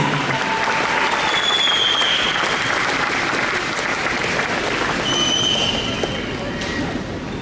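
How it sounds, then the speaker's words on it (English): Crowd applause at a volleyball tournament opening ceremony in Australia, a continuous broad wash of clapping that holds steady and loud for several seconds, with faint voices and whistles mixed in. "Keep the applause going for the Melbourne United and the Ghan United girls teams."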